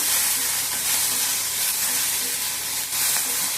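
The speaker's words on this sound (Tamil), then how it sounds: "தக்காளி வெங்காயம் நல்லா வதக்கணும்" Tomato and onion sauté in a hot pan for a lentil and drumstick kootu, giving a close, steady, loud sizzle with faint stirring scrapes underneath and no talk.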